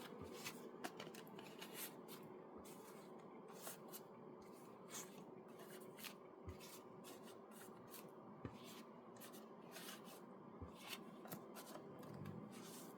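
Steady riffling and flicking of a deck of cards being shuffled, with continuous rustling and occasional sharp snaps, close and unbroken.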